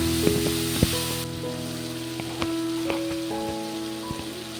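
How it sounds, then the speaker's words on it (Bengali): A chili and cumin spice paste with a little water sizzles and fries in a pan, a steady hiss with a few light clicks and pops over a faint background hum. "এবার মশলাটাকে ভালো করে কষিয়ে নেব।"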